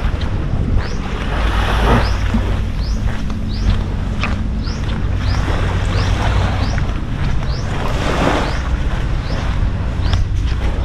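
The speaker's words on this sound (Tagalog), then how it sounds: "May bangka dito." Steady rushing wind and water noise from a boat moving across open water off Boracay, from Station 1 toward West Cove, with a low engine-like rumble underneath throughout.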